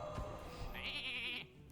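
A sheep bleat from a Polymorph spell in the Hearthstone card game, a single short wavering bleat, fairly clear, over quiet game ambience.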